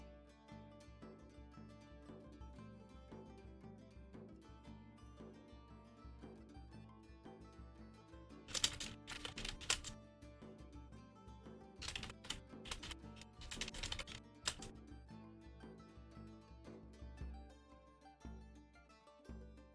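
Computer keyboard keys clatter in quiet, irregular runs, with two denser bursts of fast typing in the middle, close by and alone with no voices.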